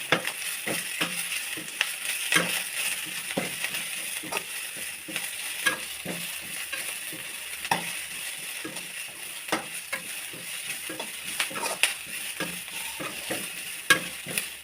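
Drumstick leaves sautéing lightly in a pan, a soft continuous sizzle with frequent rhythmic scraping and tapping of a spoon stirring, close and fairly quiet, with no talking.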